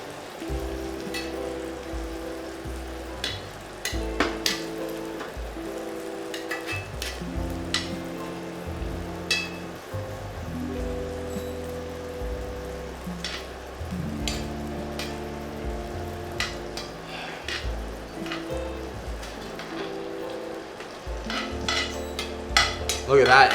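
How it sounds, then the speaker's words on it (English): A steak fries in a pan while it is basted with butter and aromatics over raised heat, giving a steady close sizzle broken by repeated scraping and spooning clatter throughout. "Once your aromatics are sort of fried and it's ready, then we can start butter basting."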